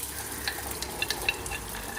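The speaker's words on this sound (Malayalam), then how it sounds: "നമുക്ക് ജസ്റ്റ് ഒന്ന് ഇങ്ങനെ വാട്ടാം ആദ്യം അതിടാം ഇഞ്ചിയും വെളുത്തുള്ളി കേട്ടോ അത് ചതച്ച് വെച്ചിട്ടുണ്ട്" Crushed ginger and garlic sauté in a pan for a chicken curry, making a soft steady sizzle with a few faint ticks from stirring.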